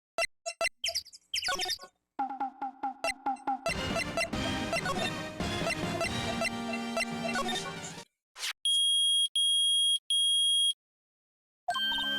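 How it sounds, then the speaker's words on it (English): The metal detector in the Ace Attorney video game sounds three loud, sustained electronic beeps in a row after a stretch of game music and short text blips. "It's beeping! The metal detector's found something!"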